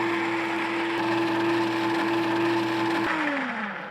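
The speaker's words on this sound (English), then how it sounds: "So from here, I want to go into the blender." A kitchen blender whirs steadily, blending melted cheese sauce for a grilled cheese, its motor holding a constant pitch for about three seconds before winding down and cutting off.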